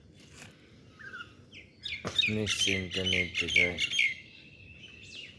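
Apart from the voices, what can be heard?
myna birds calling in the morning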